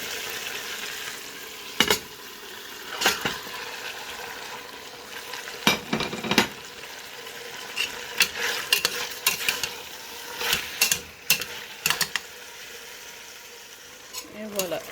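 Meat for Kandia soup hits a hot frying pan with a continuous sizzle, broken by repeated sharp clatters and scrapes from a utensil, and a voice speaks faintly beneath.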